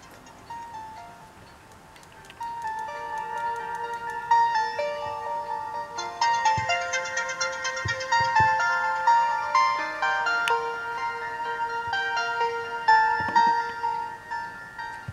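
A polyphonic Sony Ericsson Z310i phone ringtone melody plays clearly, bright synthetic tones repeating a cheerful tune for several seconds with no talking.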